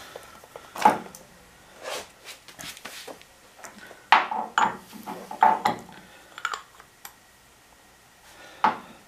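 A new oil filter is handled during a basic service of a Triumph Speedmaster 1200 motorcycle, giving scattered light metallic clinks, taps and knocks at close range with short quiet gaps between them.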